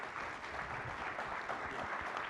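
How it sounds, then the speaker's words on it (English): An audience at a talk on democracy and capitalism in the Americas gives a warm round of applause. The clapping is steady, dense and fairly distant, with no speech over it. "please help me send them off to our next activity by giving them a warm round of applause."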